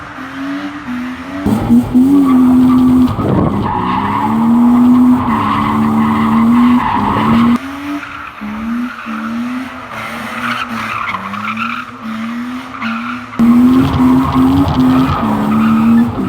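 A car drifting at a drift day at Birmingham Wheels, with its tyres squealing loudly and continuously under a revving engine that rises and falls across several long slides.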